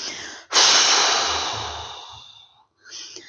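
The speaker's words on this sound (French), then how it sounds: "Souffle pour chasser toutes les tensions inutiles." A long, slow exhalation during a sophrology relaxation breathing exercise: a soft breathy rush fades gradually over about two seconds and is followed by a brief quieter breath.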